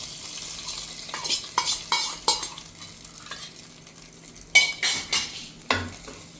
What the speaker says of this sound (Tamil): நல்லா ப்ரௌன் கலர் ஆனோடனே எடுத்து நம்ம பொங்கலில் கொட்டிக்கலாம்.